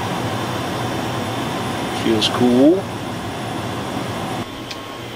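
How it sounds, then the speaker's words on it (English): A newly installed air conditioner runs aboard a sailboat, giving a steady, even hum and whoosh with a brief louder swell partway through. A person speaks briefly over it. "Air conditioner relay, that's for the pump. Well, it's running."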